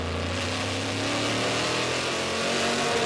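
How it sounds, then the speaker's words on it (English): A CompuAir Corvette race car with a 7-liter Thunder Mountain engine accelerates hard at the 24 Hours of Le Mans in 2006, a loud, steady, close engine roar with no talk. "you see how much power that 7-liter Thunder Mountain motor does."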